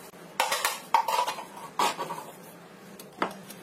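Several separate spoonfuls of powdered sugar are scooped with a metal spoon, each giving a short clink against the bowl or container, spaced irregularly and quiet, with no talk.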